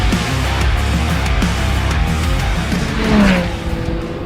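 A Ferrari 296 Challenge race car at Watkins Glen International Raceway roars steadily at high revs from the cockpit, engine note rising and shifting with a brief tire squeal near the end.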